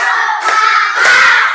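Schoolchildren clapping hands together in a counting clap game during a classroom lesson, a few close, bright claps blending into a brief burst of rhythmic hand slaps.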